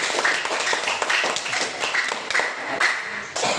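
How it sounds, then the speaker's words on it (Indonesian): Classroom clapping for all the presenting student groups: a dense, steady patter of many hands for several seconds, evenly loud with no voices over it. "Tepuk tangan untuk semua kelompok dulu."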